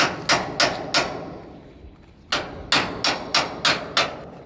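Hammer taps to free a stuck swap body container lock, outdoors: three sharp metallic strikes, a pause, then a quicker run of six ringing blows, each close, loud and decaying, with no talking.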